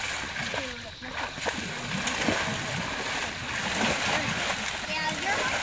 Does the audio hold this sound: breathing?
no